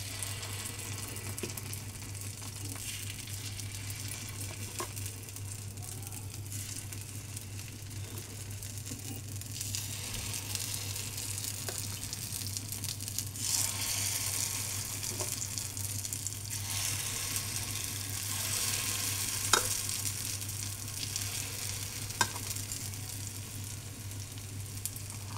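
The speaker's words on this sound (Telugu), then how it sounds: "ఇప్పుడు మనం గుంట పునుగులు వేసుకున్నాం ఫ్రెండ్స్" Gunta punugulu batter fries in a paniyaram pan, giving a steady soft sizzle and crackle with occasional pops over a constant low hum, fairly quiet and without talk.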